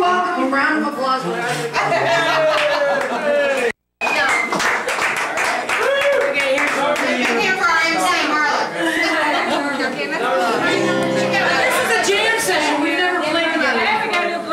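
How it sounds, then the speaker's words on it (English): Clapping for a house band player at the Boarding House mixes with lively crowd chatter, voices and whoops. The sound stays loud and close throughout, with only a brief cut-out near the start. "Round of applause."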